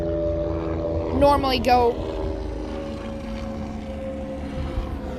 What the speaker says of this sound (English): I get on a roll and there's helicopters, planes, and all that crap